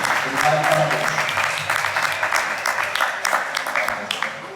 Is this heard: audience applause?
yes